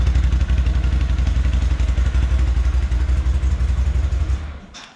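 Can-Am Outlander 650 XMR ATV from 2019 with a Yoshimura slip-on exhaust, held at a loud, steady, throbbing rev close to the microphone, then quickly dying away at the end.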